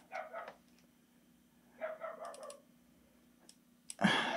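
Dogs barking outside at night, a few distant, muffled bursts of barking separated by quiet gaps, faint against a low steady hum, with some keyboard-like clicking nearby.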